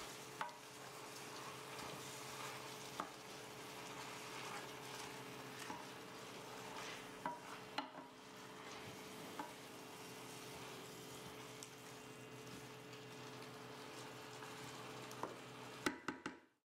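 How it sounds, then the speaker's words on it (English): Spinach stirred in a pan as it wilts: a quiet, steady sizzle with faint scraping and occasional small clicks of a utensil, continuous throughout before stopping abruptly at the end. "Stir to wilt the spinach and let it cook for 1 minute."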